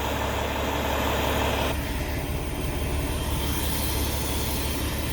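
A truck idles steadily at a grain elevator during probing, a constant low engine rumble close by with a mechanical hum that shifts tone partway through; no talking.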